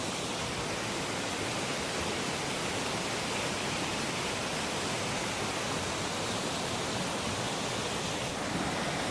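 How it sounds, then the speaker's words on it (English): A flooded creek rushes hard in a state park, a loud, steady, broadband roar of churning water that stays constant throughout. "But check out this creek. I know it's flooded and rushing really hard"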